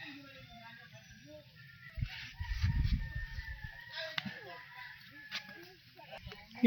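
A chicken clucks and squawks faintly amid soft background noise, with a brief flurry of low rustling partway through.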